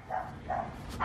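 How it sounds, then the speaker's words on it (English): Two short, muffled dog barks about half a second apart, fairly faint and somewhat distant, followed by a brief rustle. "That's a dog."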